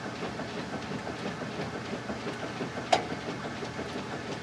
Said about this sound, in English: This is gonna start to spin